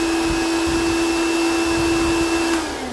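A countertop blender set to run continuously gives a loud, steady motor whine with a constant pitched hum, which drops and starts to wind down near the end.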